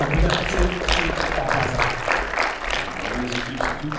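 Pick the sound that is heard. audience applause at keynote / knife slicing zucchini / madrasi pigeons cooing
audience applause at keynote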